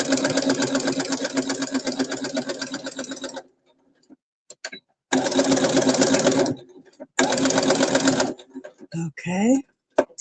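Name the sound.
sewing machine top stitching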